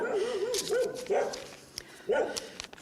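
Several dogs bark and yip in short bursts, some with a whining, wavering tone, moderately close with gaps between.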